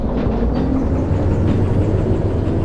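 A long freight train rolls along in the Derail Valley railway game, a steady low rumble of wheels and cars with faint rhythmic clatter throughout.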